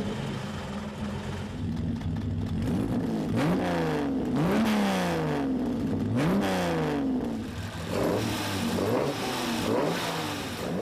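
Aston Martin DB4 GT Zagato with its twin-plug 3.6-litre engine revving repeatedly, rising and falling in several throaty sweeps, heard up close with no talk.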